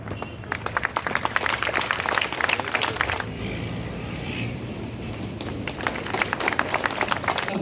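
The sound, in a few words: audience applause at memorial inauguration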